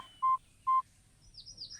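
Two short, evenly spaced telephone dialing tones ring out clearly over quiet background as someone calls the police, followed by faint chirping.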